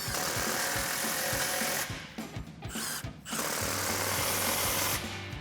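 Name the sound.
impact wrench with 15mm socket tightening exhaust clamps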